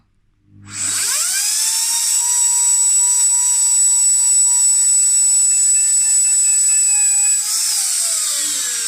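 A high-speed turbine drill spins up sharply and then whines at a steady high pitch while boring into stone with a circular motion, loud and close, dipping slightly in pitch before continuing.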